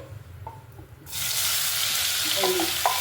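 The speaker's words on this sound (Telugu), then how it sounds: "దోసకాయ వేయించాలండి" Cucumber pieces hit hot oil in a pan and a loud, steady sizzle starts abruptly after a quiet moment, with a few small clinks over the frying.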